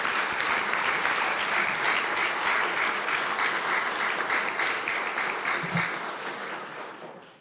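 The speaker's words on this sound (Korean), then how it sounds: "우리 대모님께 큰 감사의 박수를 올렸으면 좋겠습니다" A hall of listeners at a special report breaks into sustained applause of thanks, a thick even wash of clapping that holds steady for most of its length before gradually fading out.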